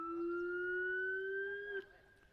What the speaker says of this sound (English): Oh, I hear some sirens.